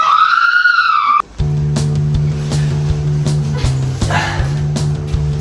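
A siren wail cuts off, then repeated sharp dog barks ring out at a steady pace, fairly close, over a low engine hum.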